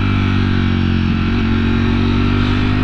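A Ducati Streetfighter V4 motorcycle cruises along curving mountain roads near Fort Mountain, its engine holding a loud, steady, close-up drone throughout with no voices.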